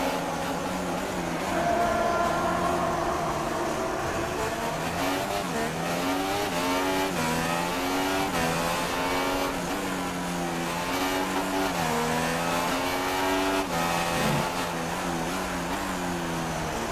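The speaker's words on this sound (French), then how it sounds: "on va vous laisser profiter un petit peu du son et du tunnel de ce moteur Honda" Honda V6 hybrid Formula 1 engine in F1 2016 racing through the Monaco tunnel, a sustained high-revving whine rising and falling through gear changes, with brief tire squeal.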